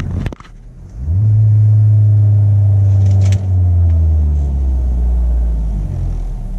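The engine of a 2013 Chevrolet Sonic LTZ automatic, in park, is revved suddenly and held steady against its 3,000 rpm limiter in a loud, close drone for several seconds before easing off.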